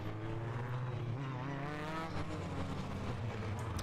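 Sports 2000 race cars racing at Brands Hatch, engines droning at a distance with a rising pitch as they power through the final corners, steady and moderately faint.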